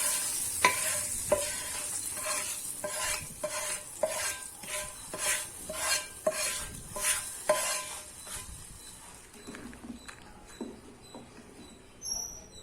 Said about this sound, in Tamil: இப்போ இந்த தாளிப்பை சாம்பாரில் ஊற்றிடலாம்.